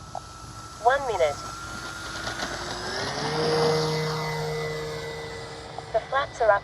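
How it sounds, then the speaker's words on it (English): A propeller airplane flies with a steady, droning engine hum that slowly shifts in pitch, while brief bursts of voice cut in near the start and the end. "Man, what a great flying plane."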